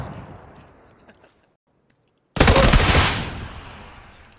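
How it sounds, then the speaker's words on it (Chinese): Gunfire in a multiplayer shooter video game, heard as a sudden loud burst of rapid automatic shots that cuts in after a near-silent gap, rings out for about a second and then fades into a decaying echo. "他对着天开枪"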